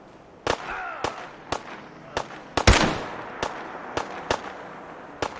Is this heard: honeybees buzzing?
no